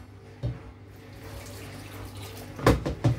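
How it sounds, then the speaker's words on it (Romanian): Water is poured from a tap into a cooking pot holding onion, garlic, tomato, carrot and potato, a soft running hiss punctuated by clanks and splashy bursts, with no talk. "punem un pic de apă"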